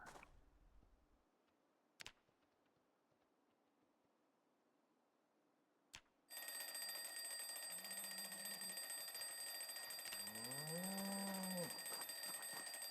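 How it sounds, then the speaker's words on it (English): Alarm clock ringing in the video game Project Zomboid: after quiet with two short clicks, a loud continuous electronic ringing starts and holds steady, with a few brief low animal-like sounds layered underneath. "hearing that alarm clock"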